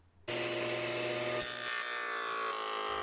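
Hand sawing through a wooden box piece backed by a scrap board, a steady continuous rasping stroke close up, shifting slightly in pitch partway through, with no voices.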